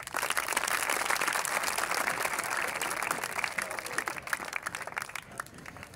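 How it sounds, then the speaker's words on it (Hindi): An audience at a school event claps for the school management, a moderately distant round of applause that is strong at first and then gradually thins out, with faint crowd murmur underneath. "एक दफ़ा ताली होनी चाहिए"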